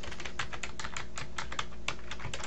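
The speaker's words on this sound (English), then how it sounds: "So I can type in the answer to D" Rapid, steady clatter of keys on a computer keyboard as an answer is typed, close and clear with no talking over it.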